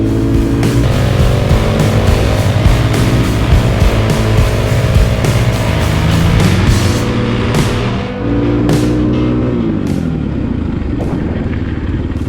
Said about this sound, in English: We might do a little brake testing on this gravel road.